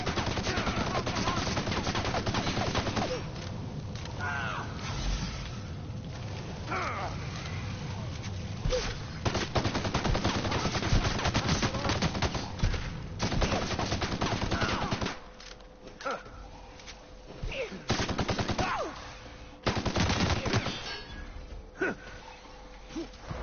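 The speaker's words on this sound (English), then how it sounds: "That's just shooting a gun, though." Video game gunfire, with rapid bursts of automatic fire and repeated single shots crackling through dense, loud stretches, broken by short pauses, over continuous game background sound.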